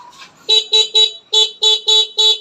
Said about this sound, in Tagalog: ito kasi yung busina niya